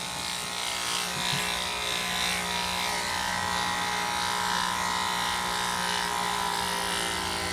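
Electric clippers run continuously on a Shih Tzu during a full-body shave, a steady close buzzing hum with a faint rasp as the blade moves through the coat, no talking.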